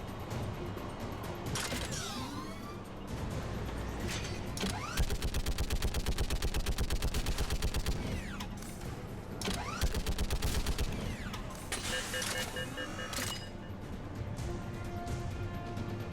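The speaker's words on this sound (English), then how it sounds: "Plus, I got a fucking mounted machine gun." Sustained mounted machine-gun fire in Mass Effect 3, loud rapid bursts of shots running through much of the stretch amid mechanical clanks and creaks of combat.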